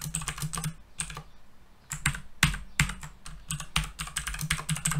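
Rapid keystrokes on a computer keyboard while typing in Microsoft Word, clicking in quick irregular bursts with brief pauses, close and clear with no voices.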